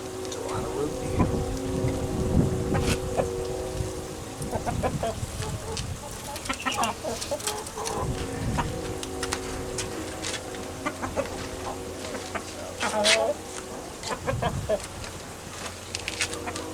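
Hens cluck and murmur softly amid rustling and scraping outdoors, with occasional louder clicks and a distant low hum.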